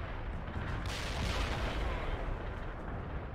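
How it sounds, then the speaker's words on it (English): An artillery barrage in the video game World in Conflict, a continuous deep rumbling roll of blasts that swells in the middle, fairly loud and dense. "Artillery barrage turned the target area into dust."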